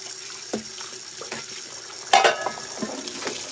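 Kitchen tap water runs into a sink to work up soap suds for cleaning, a soft steady hiss with a few faint clinks and splashes, no voices.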